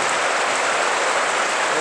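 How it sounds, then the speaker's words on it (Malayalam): Heavy rain pours steadily at Edakkal Caves in Wayanad during a summer shower, a dense, even roar of drops close to the microphone with no pauses. "നല്ല അടിപൊളിയായിട്ട് മഴ പെയ്തുകൊണ്ടിരിക്കുക"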